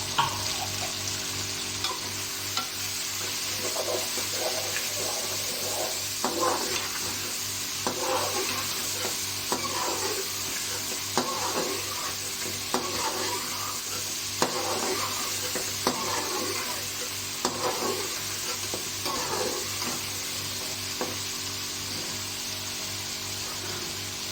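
Beef cooking in a pot for pulao while being stirred, a constant low sizzle with intermittent scraping and knocking of the spoon at a steady, unhurried pace, no talk.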